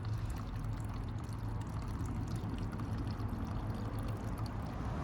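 Gasoline drains from a motorcycle gas tank through its petcock as a faint, continuous trickle and pour, steady for the whole stretch and with no speech.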